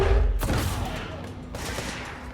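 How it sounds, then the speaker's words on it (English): A large gun fires in the video game Control: a heavy, booming shot with a rumbling tail, then a second blast about a second later, both loud and close. "Oh, that was a bigger sounding gun."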